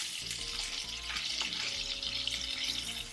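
Salmon fillet frying in a pan just after being flipped, a steady close crackling sizzle with scattered pops, heard alone without talk.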